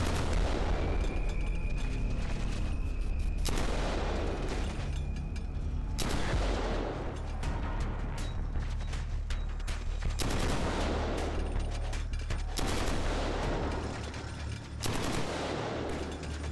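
Killzone 3 gunfire played with a PlayStation Move controller, with sustained automatic weapon bursts and heavier booming shots rolling continuously at steady loudness, with no talking.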